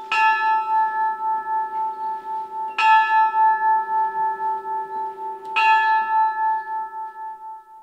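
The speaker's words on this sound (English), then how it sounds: "At 11 o'clock, the remembrance began with bells signifying the end of the First World War." A bell rings out at an outdoor Veterans Day ceremony marking the centennial of the First World War's end at Centene Stadium in Great Falls, with three clear, evenly spaced strikes whose resonant hum lingers between them.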